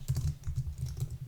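Rapid, soft clicking of keys on a computer keyboard, fast and steady up close with no voices.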